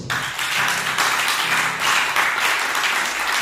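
Church congregation at a seminar clapping together for an elder, a dense, steady burst of applause from a large crowd lasting a few seconds with no voices over it.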